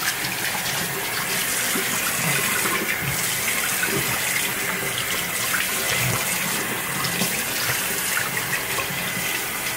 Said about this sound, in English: I'm gonna use warm water.